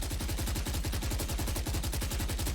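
Rapid automatic gunfire from weapons in the tactical shooter game Valorant, a steady burst of evenly spaced loud shots running continuously with no talk over it.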